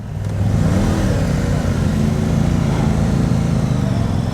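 A brand-new motorcycle's engine, only a few kilometres on it, runs with a steady, loud, close low rumble and a slight rise in revs, with no talk.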